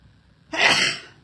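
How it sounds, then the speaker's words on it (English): One sudden sneeze, loud and close, a short explosive burst alone over a quiet background. "I've been sneezing lately."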